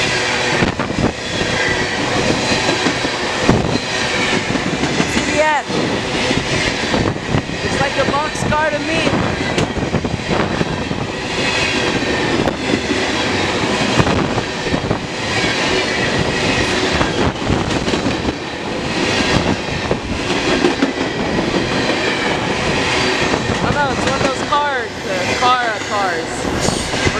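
A CN freight train passes fast on a rail line, a loud continuous roar and rattle of wagons close by, with people talking over it throughout.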